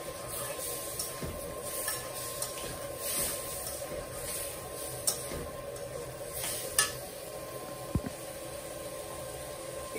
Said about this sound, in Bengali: জল দিয়ে একটু মশলাটা কষায় নিলাম